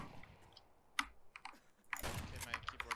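Computer keyboard typing, faint and close, arrives as scattered key clicks, then a quicker burst of tapping near the end, amid low game-like background noise.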